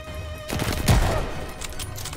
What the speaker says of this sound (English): take some guns and start shooting